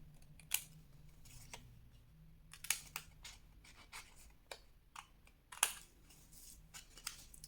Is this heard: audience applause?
no